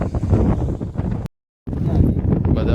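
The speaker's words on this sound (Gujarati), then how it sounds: "જોરદાર પવન આવે ખતરનાક" Strong desert wind buffets the microphone at a temple in the Rajasthan sand, a loud continuous roar that cuts out briefly and returns just as hard, with voices mixed in.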